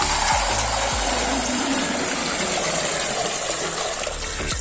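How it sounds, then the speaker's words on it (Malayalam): Water gushes steadily into a bucket, a loud, continuous rushing pour with no break from start to finish. "ഇനി നമുക്ക് ഇതിലേക്ക് വെള്ളം ഒഴിച്ചിടാം."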